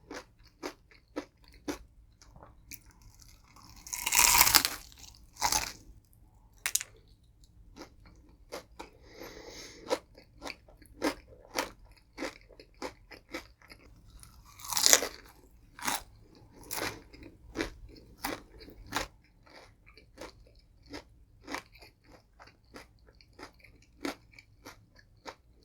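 Crunchy Popeyes fried chicken skin is bitten and chewed close to the mic in a quiet room. Two loud bites are followed by many sharp, crackly crunches in an irregular rhythm, with no talking.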